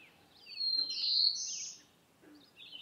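A black-throated blue warbler sings a buzzy, rising, high-pitched phrase from forest in Maine, followed by a fainter partial repeat, clear against a quiet background.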